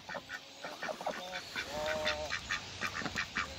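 Ducks quack in a quick series of nasal, honking calls, fairly close, with no voices present.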